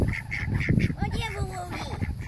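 Ducks quack in a few short, nasal calls partway through, close by and moderately loud, mixed with people talking outdoors.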